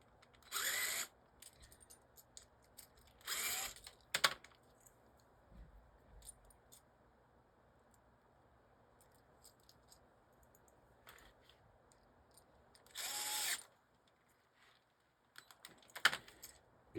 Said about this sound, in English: Get a screwdriver in there.